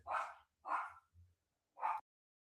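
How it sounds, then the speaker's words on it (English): A dog barking nearby, three sharp loud barks with a short gap before the last, plus a faint low grumble between them. "Now my dog is barking, but that's okay."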